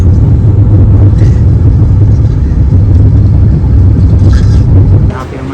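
Car pulling away from a petrol pump on a Goa to Pune road trip, close steady engine rumble that holds loud, then drops off sharply near the end.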